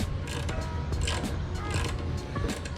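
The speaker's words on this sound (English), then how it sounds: "The final touch, tightening the brackets now." Windshield brackets on a Royal Enfield Himalayan motorcycle being tightened with a hand tool, a quick run of close ratcheting clicks and creaks over a low background hum.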